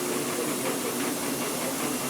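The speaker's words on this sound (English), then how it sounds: "bulldozer engine" Bulldozer engine at a steam-up event, heard as a steady broadband hiss and mechanical drone with a faint rhythmic pulsing, continuous and fairly close.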